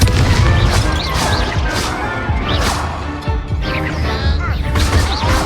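A Levioso spell is cast during a duel in Hogwarts Legacy, bringing loud magical whooshes, crashes and booming impacts that layer densely into a continuous, close clamour.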